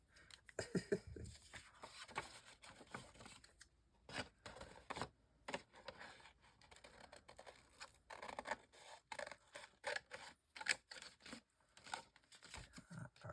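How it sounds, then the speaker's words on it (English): Quiet snipping of scissors through paper, a series of short crisp cuts with pauses between them, close by and fairly soft. "Yeah, I'm using scissors."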